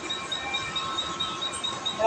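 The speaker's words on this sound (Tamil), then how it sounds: "பன்வேல் ட்ரெயின் உட்காந்தாச்சு." A Panvel commuter train in motion rumbles steadily from inside the carriage, with faint rhythmic clicks and a thin squeal near the end. The sound stays moderate and even, with some indistinct background noise.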